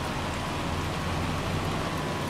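Hail falling in the video game Farming Simulator 25, a steady dense patter like heavy rain hitting surfaces, continuous and fairly loud with no pauses.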